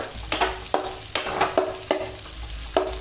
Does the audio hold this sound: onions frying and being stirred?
yes